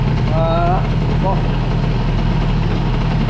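A moped fitted with an Airsal XT 77 kit idles with a steady, close, low-pitched engine rumble, and a voice briefly speaks over it near the start.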